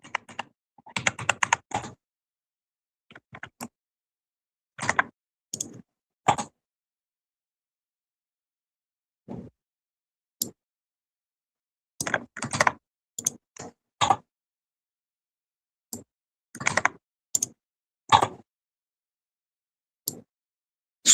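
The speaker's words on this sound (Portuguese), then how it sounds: "Digitar a senha." Password typed on a computer keyboard during a Koha library system install, heard as short bursts of crisp key clicks separated by pauses, fairly close and alone.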